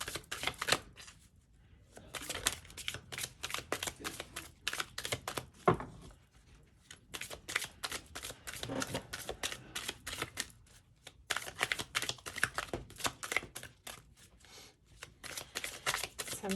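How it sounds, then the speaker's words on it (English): Tarot and oracle cards are shuffled in quick riffling bursts, crisp flapping rattles separated by short pauses, close and fairly quiet. "Sometimes the cards just want to shuffle."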